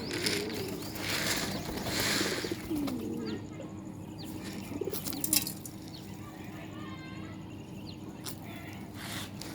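Pigeons cooing at their coop during feeding in low, repeated murmurs, with wing flutters and background hiss throughout.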